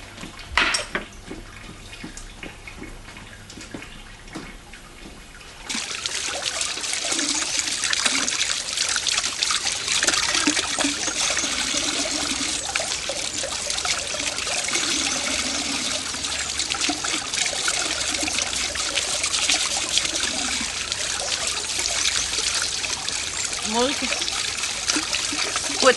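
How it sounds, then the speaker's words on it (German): Steady water trickling and running from a faulty kitchen tap, close and continuous after a quieter opening, with people talking over it. "Könnte mir etwas helfen mit dem Wasserhahn in der Küche? Da ist irgendetwas nicht in Ordnung."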